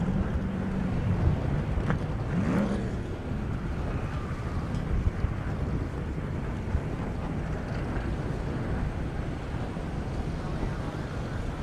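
Strong wind roars steadily across the microphone at a drag-racing airstrip, flags whipping and snapping in the gusts, a dense continuous rush with no break.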